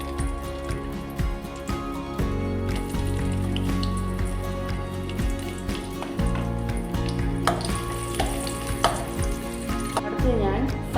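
Raisins sautéing in a pan for jeera rice, with a steady low sizzle and occasional stirring scrapes, heard close alongside a constant background hum.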